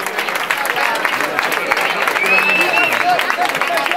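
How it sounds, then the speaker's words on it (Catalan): Applause from a crowd at an outdoor 15M movement general assembly in Terrassa runs dense and sustained, with a whistle rising briefly above it and voices mixed into the noise. "Un aplaudiment per ells."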